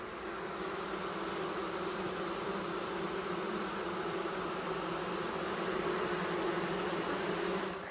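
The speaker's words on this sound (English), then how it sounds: "Look at these bees down in here working." Dense, steady buzzing of many honey bees close by inside an open hive, a continuous droning hum with no pauses.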